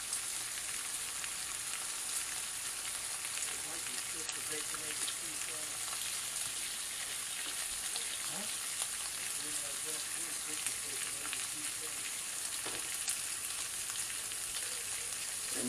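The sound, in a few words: bacon frying and sizzling in a pan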